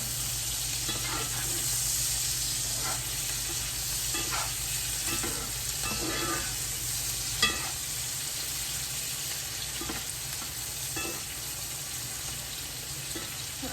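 Food sizzles steadily on an electric griddle, a constant hiss with soft, irregular scrapes and clicks of stirring over it. There is no talking.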